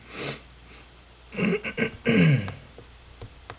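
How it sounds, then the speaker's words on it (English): Throat clearing up close, a few rough guttural rasps in quick succession after a soft sniff, with quiet room noise around. "I'm sorry I keep clearing my throat"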